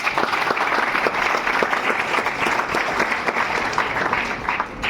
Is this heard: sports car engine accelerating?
no